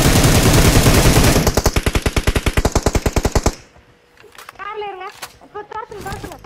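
Rapid automatic gunfire rattles loudly for several seconds in a video game, a dense burst that settles into an evenly spaced stream of shots before cutting off, followed by voices talking.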